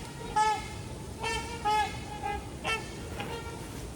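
Several short honks sound outdoors in wintry woods, separate tonal toots at moderate distance with pauses between them over a soft background.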